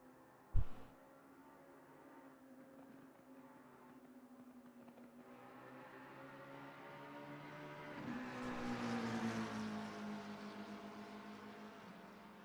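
Race cars passing at Spa-Francorchamps near La Source in a racing game, a steady engine drone rising in pitch and growing louder as a car sweeps by and overtakes, with harmonic whine swelling toward the end.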